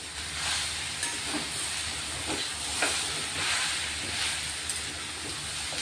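Masala and coriander sautéing in a hot pan for a dry okra fry, giving a steady soft sizzle and hiss with faint stirring scrapes, fairly quiet and unbroken, with no talking.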